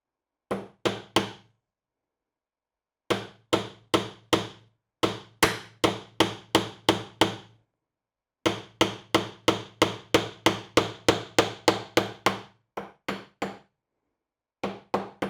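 A hammer drives a wooden dowel with sharp, ringing knocks struck in quick bursts of three to a dozen blows, separated by brief silent pauses, loud and close with no talk.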